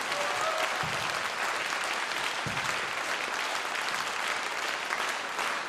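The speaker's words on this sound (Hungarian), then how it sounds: "szóljon a taps!" Loud, sustained audience applause fills a live concert hall, dense and even clapping from a large crowd that holds steady for several seconds without speech.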